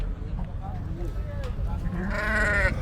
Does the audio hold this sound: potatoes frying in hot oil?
no